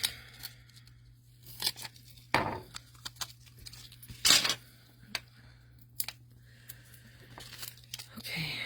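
Scissors snip pop dots for a handmade snowman card in scattered sharp cuts, with paper rustles and faint clicks in a quiet room.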